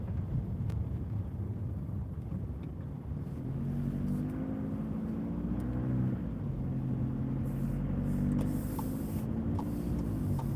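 Steady low engine drone and road rumble from inside a car driving through town in Berkshire, with gentle rises and falls as it speeds up and slows, faint clicks, and no talk.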